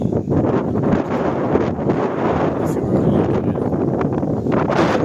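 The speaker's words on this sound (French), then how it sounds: "Et il y a du vent, comme d'habitude." Steady, dense wind buffeting the microphone at the Château de La Ferté-Milon, a constant low roar with rustling texture throughout and no clear pauses.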